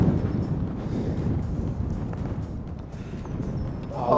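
Steady wind gusts across a golf course, buffeting the microphone with a constant low rumble and rustle that holds for the whole stretch.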